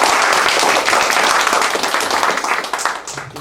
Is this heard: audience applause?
yes